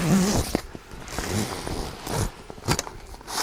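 A fabric rear awning wall on a Darche Eclipse 180R awning is zipped on, several close, scratchy zipper runs in short pulls.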